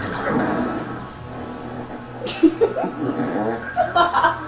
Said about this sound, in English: this year's April Fools gave us the anime lineup with fart noises.